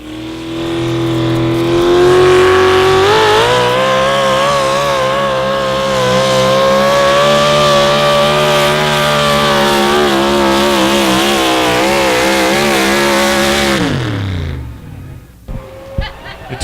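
A modified 4x4 pulling truck roars at full throttle through a long, loud, sustained pull at an outlaw truck pulling event in Madison, South Dakota, with the engine pitch rising early, holding steady, then dropping off sharply near the end.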